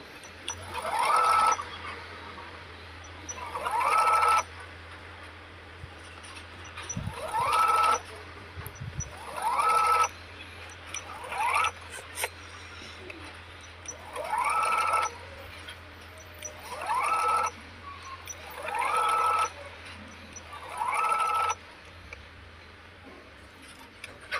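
A sewing machine stitches around the neck of a baby frock in repeated short runs of steady motor whir, each lasting a second or two, separated by pauses with faint handling of fabric.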